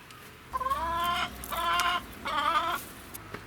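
Chickens in a pen clucking in three drawn-out, rising calls with short gaps between, close and clear over a quiet background.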